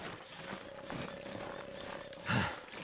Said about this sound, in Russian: Пока я тут всех пугался, всех звуков волков.